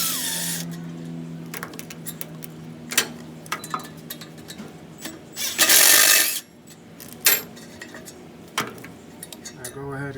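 Metal tools clink and click as a size 14 wrench loosens bolts on a 2020 Toyota Tacoma during a catalytic converter replacement: scattered close sharp taps and ratcheting, with one louder burst of rattling midway.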